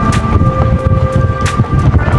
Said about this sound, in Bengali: এখানে খুব বাতাস আজকে,